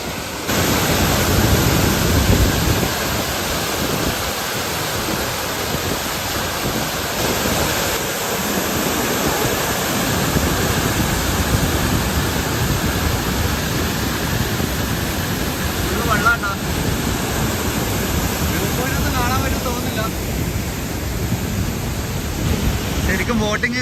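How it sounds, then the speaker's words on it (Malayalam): Strong water rushing at the Tyngam Masi waterfall viewpoint near Laitsohpliah, Cherrapunji, a loud steady roar that fills the clip, with speech faintly mixed in. "നല്ല വെള്ളം പോകുന്നുണ്ട്"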